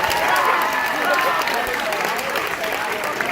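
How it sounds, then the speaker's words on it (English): A live audience at a stage hypnotist show claps loudly and steadily for a hypnotized volunteer, a dense continuous wash of applause with a few voices mixed in throughout. "Let's give Noelle a big round of applause"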